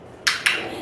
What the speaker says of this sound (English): The clicker sounds like this.